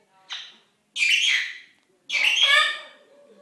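A pet talking bird gives three sharp squawks spaced apart, each loud and close, the last one stretching into a longer, tonal call with silence between.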